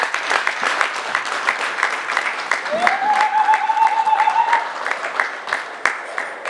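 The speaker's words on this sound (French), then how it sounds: "Si vous pouvez l'applaudir" A conference audience of Katumbi supporters claps continuously, with dense applause throughout while a voice calls out over it and a brief whistle-like tone rises in the middle.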